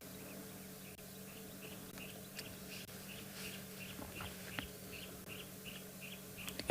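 Wild birds call from the African bush in South Africa on a morning safari, faint repeated chirps spread through a low steady hum, with no talk.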